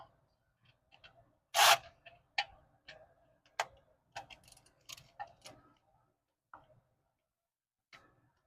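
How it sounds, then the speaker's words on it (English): A ratchet wrench turning a 12 mm bolt while working on a 2019 Hyundai Tucson exhaust for a P0420 fault: sparse, close metallic clicks in uneven bursts, one sharp louder clack early, then quieter intermittent ticks. "I guess I'll do it with the ratchet first"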